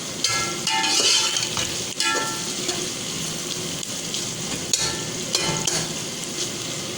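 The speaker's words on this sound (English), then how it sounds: "add the onions. Saute it for 1 to 2 minutes." Onions sauteing in warm oil in a pan for Sindhi chicken biryani, a steady close sizzle with occasional scraping stirs and clinks from the utensil, and no voices.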